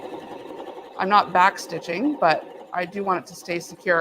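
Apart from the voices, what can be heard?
sewing machine sewing a seam with lock stitch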